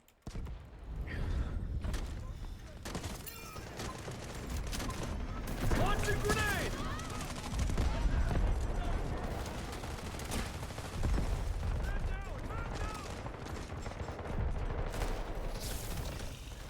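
Gunfire rattles almost continuously through a Delta Force match, with dense bursts and thumps at mid distance and a player talking over the shooting.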